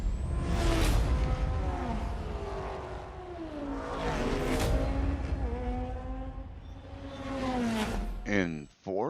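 Subaru Levorg GT in an A-class race of Forza Motorsport at Catalunya, engine revving up and down through gear changes with rising and falling tones, steady and close.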